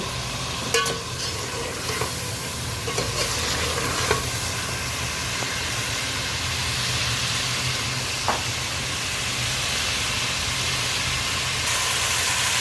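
Green chillies sizzle with meat frying in oil for a desi arvi gosht, producing a continuous hiss and crackle with a few metallic spoon knocks and scrapes early on, steady and unaccompanied by talk.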